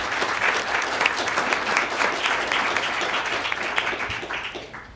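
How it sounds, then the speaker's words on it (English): A conference audience at a sustainable energy event applauds the sponsors with dense, sustained clapping that stays loud and even, then tapers off near the end. "maybe we can give a round of applause for all the sponsors that are listed here"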